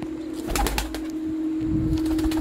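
Pigeons in a dim loft coo softly amid a steady droning hum, with a few flutters of wings and shuffling movement close by.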